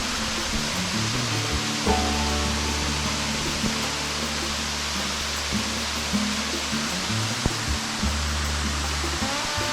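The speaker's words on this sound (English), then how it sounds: "That looks like a good waterfall to abseil" Paddys Falls on a creek near Mount Maroon, a waterfall giving a steady broad rushing roar that stays even and fairly loud for the whole stretch, with a faint low hum beneath and no talking.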